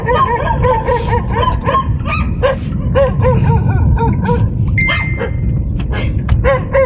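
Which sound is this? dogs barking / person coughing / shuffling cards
dogs barking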